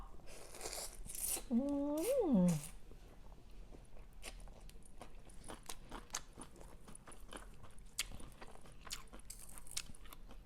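Close-up biting and chewing of Thai rice noodles (khanom jeen) in a fermented-fish jungle curry with vegetables, with soft crunches throughout and a brief voiced sound early on.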